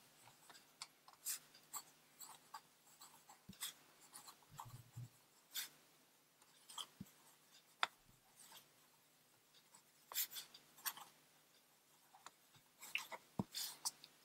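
Pen nib scratching on paper while writing with Diamine Deep Dark Orange ink, soft close strokes in irregular short bursts and taps against a quiet background.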